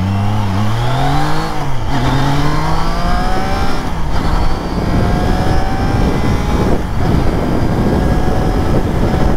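A Triumph Trident 660 three-cylinder motorcycle pulls away from a standstill, its engine note climbing loudly through the gears with brief dips at each shift, close and continuous, with no talking.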